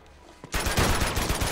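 Automatic gunfire from an AK-47 in Uncharted 2, a loud sustained burst of rapid, evenly spaced shots erupting after a quieter moment and running to the end.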